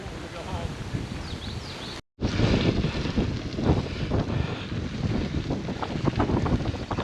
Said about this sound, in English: We've got a wind coming out of the east. Pretty strong, as you can see.